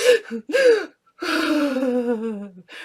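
A voice imitates a child's crying breaths: two quick shaky inhales followed by a long, drawn-out voiced exhale, close and clear.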